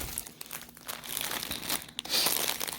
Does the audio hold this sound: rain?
no